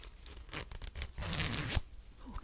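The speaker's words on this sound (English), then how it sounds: "Okay, let's do the zipper." A zipper pulled in a few quick, close bursts, with a short pause between strokes and a rasping tear-like texture in a quiet ASMR setting.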